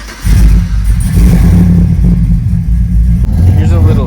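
A car engine starts on a hot Arizona day and settles into a loud, close, steady idle rumble with some clatter, running throughout with a brief dip near the end.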